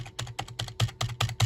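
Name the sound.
typing on keyboard while testing an old Dell computer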